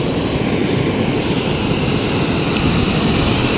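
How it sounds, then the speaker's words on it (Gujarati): Water pouring through an open gate of Dantiwada dam in heavy rain, a loud, steady broadband roar of rushing water that stays constant throughout, with no voices. "જોઈ શકો છો મિત્રો પાણી ચાલુ છે, બારી ખુલ્લી છે"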